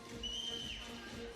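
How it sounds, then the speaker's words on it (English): A referee's whistle sounds once, a short shrill blast at a women's 3x3 basketball game between the USA and Chile at the FIBA 3x3 World Cup, heard over steady arena crowd noise. "Another whistle."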